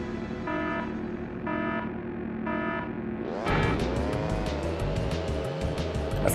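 Kart engines in the racing game Crash Team Racing: a steady buzzing engine drone with repeated beeping tones, then a surge into a louder, dense roar of several karts revving and jostling together.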